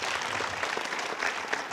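An audience at a spiritual gathering applauds trust board members. Sustained, fairly dense clapping from many hands carries evenly throughout, with no pauses.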